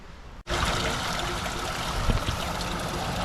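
A stream flows steadily in hilly countryside, a continuous broadband rush and trickle that starts abruptly after a brief quiet moment and then holds at an even, moderately close level with no voices.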